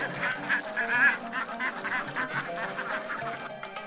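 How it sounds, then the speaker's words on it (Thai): Ducks in a duck pen quacking and honking in a busy, overlapping chorus, close by, with nasal calls rising above a rustling, noisy background. "เล้าเป็ดของเรา ตื่น"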